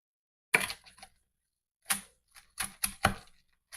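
A knife crunches through crispy baked bread in a handful of sharp, dry crackling cuts, close and clear against near silence, with short gaps between strokes.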